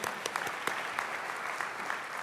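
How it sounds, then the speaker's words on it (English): An audience at a student recognition awards ceremony applauds a speaker: a sustained crowd of clapping hands with a few sharper, louder claps standing out near the front, no voices. "Let's applaud him more."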